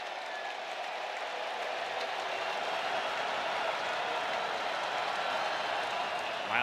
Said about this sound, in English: They got to deal with this crowd.